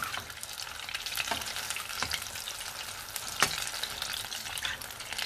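Pakoras and bhajis fry in shallow oil in a pan, giving a steady, dense, close sizzle broken by a few sharp crackling pops.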